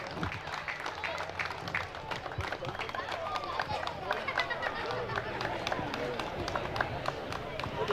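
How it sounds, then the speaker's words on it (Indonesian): An audience claps for a theatre performance by young performers at a Heroes' Day commemoration at a monument in Malang, with dense, continuous applause and crowd chatter mixed in. "Kita berikan aplaus yang meriah untuk adik-adik kita dari teatrikal."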